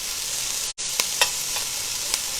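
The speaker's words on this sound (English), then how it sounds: "And they're sizzling nicely and they smell really good." Onions sauté in a hot pan, a bright continuous hiss of sizzling with a brief dropout and a few soft stirring clicks, no voices.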